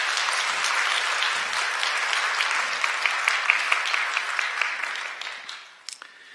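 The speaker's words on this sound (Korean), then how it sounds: "여러분들 환영의 박수 부탁드립니다." A church congregation claps in welcome during a Sunday service, a dense, steady wash of many hands that holds for several seconds, then thins and fades out near the end.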